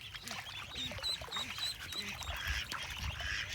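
Ducks gather close together at a farm pen, their overlapping quacks and calls rising over steady outdoor background noise throughout.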